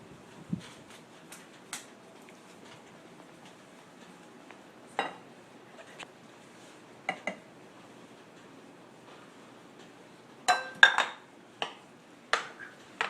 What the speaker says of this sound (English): we're going to mix our roux in here as well